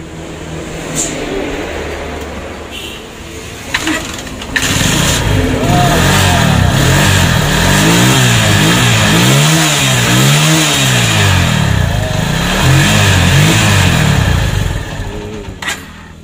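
A Yamaha Megapro motorcycle engine catches after an ignition fault and then revs repeatedly in rising and falling surges, loud and close, before settling near the end.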